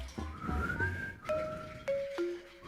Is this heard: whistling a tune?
yes